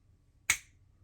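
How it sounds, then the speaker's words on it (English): A single sharp finger snap rings out close and clear in an otherwise quiet room, with a quick decay and no talking over it. "Perhaps if I snap my fingers, one will magically appear."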